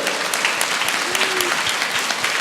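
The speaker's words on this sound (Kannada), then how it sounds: "ಜೋರಾಗಿ ಚಪ್ಪಾಳೆ" An audience at a Tumkur meditation and music gathering bursts into loud, sustained applause, dense clapping from many hands with a faint voice tone briefly audible beneath.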